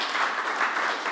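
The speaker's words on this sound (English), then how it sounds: "that's worth a round of applause" An audience at a governor's event on the Interborough Express transit project applauds, a brief dense burst of clapping at steady volume.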